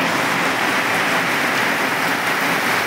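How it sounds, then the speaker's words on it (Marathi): Heavy rain pours down steadily and loudly outdoors on a farm, a dense continuous hiss of drops with no breaks. "पण आत्ता चांगला येतोय बरं का पाऊस"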